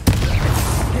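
A fire-casting spell bursts out in a magic-combat video game: a sudden loud whoosh with a low rumbling roar that holds steady for about a second.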